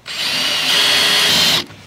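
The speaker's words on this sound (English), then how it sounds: "Drill." Power drill running in one burst of under two seconds while installing a coal chute and grain gate on an F550 dump truck, a loud high whine that rises slightly then cuts off sharply.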